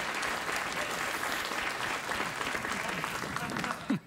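A late-night talk show studio audience breaks into dense, sustained applause that fills the room evenly before dropping off abruptly at the end, with a brief vocal sound over the tail.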